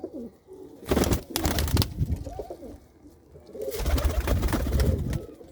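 Pigeons kept by a Punjabi fancier, including a Coca-Cola cock bird, coo in repeated throaty bursts, close and fairly loud, with pauses of quieter background between calls.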